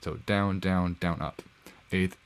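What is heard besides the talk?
No everyday noise stands out behind the speech.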